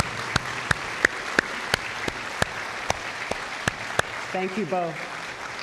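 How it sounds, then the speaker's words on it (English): Audience applause at a San Jacinto College event, a dense steady wash of clapping with sharp louder claps punching through at a regular beat for several seconds, then someone speaks briefly as it fades. "let's give them a round of applause."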